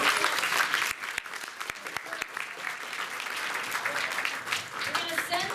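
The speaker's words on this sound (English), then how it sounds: "Everybody give a round of applause for Vic." A comic con crowd at a live drawing event gives a round of applause for a participant, sustained clapping with a few sharp individual claps standing out, moderately loud throughout.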